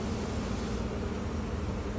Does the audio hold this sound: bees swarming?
yes